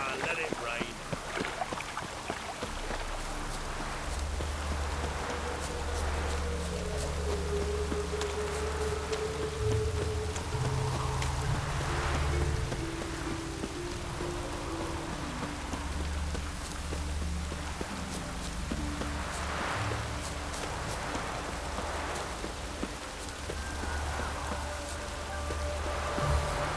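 Steady rainfall in The Witcher 3 on PS4, a constant soft patter over low rumble, with game music and a brief spoken line in the background.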